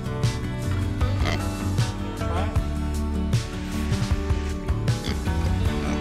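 Pig on a homestead grunting and snorting in short, low, repeated bursts close by, with wind and rustling in the background.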